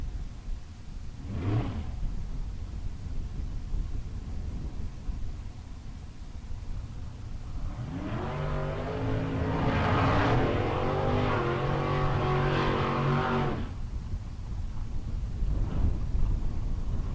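Drag racing cars launch at a bracket race, a Corvette Roadster among them: a distant short burst, then a loud roaring acceleration that swells and fades, followed by another faint rev.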